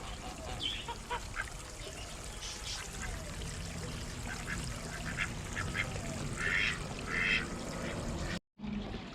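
Muscovy ducks quack in short scattered bursts close by on a farm, with some goose-like honks mixed in, over a steady outdoor background.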